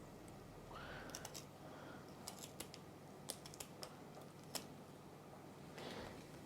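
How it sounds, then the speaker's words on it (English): Quiet, crisp snips of scissors trimming a monkfish tail fin, a handful of sharp clicks scattered irregularly over a soft background hiss, with no talking. "just take your scissors and trim this little tail fin off"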